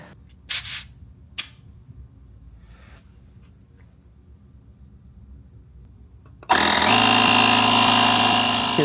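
A jump starter's built-in air compressor kicks on loudly and runs as a steady, buzzing drone while pumping up van tires, after a quiet stretch broken by a couple of brief hisses and clicks.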